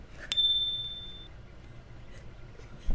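A notification-bell sound effect: one bright, crisp ding that rings out and fades over about a second, heard alone over a faint background.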